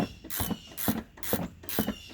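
A ratchet wrench works loose a rear shock absorber on a Suburban's suspension: five quick bursts of clicking, evenly spaced and close, with no voices.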